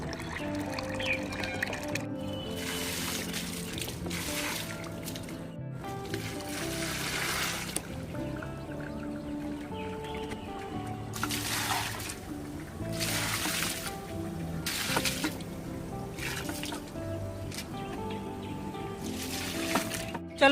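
Water trickles and pours from a filled container onto potted plants on a rooftop in the morning, a soft, faint splashing that comes and goes in several bursts with little else around.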